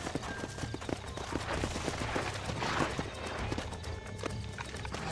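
Horse hooves in the Western video game Red Dead Redemption clip-clop in a steady, close rhythm, with a brief whinny and a busy game soundtrack running underneath.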